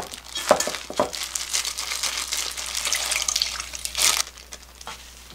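Tap water runs steadily over enoki mushrooms being rinsed in a kitchen, a close splashing wash with a few crinkling handling sounds and a brief louder surge near the end.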